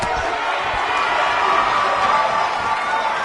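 Arena crowd in a WWE wrestling video game roaring and cheering in a continuous, loud wash of voices that swells slightly in the middle, with no distinct speech standing out.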